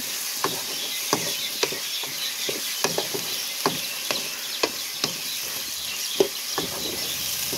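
Bitter gourd pieces fry in oil with a steady, gentle sizzle and hiss, punctuated by regular clicking stirs of a spoon against the pan, close and alone without talk.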